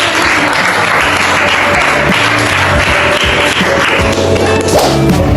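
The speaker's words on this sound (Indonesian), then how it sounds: "Tepuk tangan dong untuk semuanya." Children and adults applaud at a school community-outreach session introducing taxes, with dense, loud, steady clapping that fills the whole stretch from start to finish.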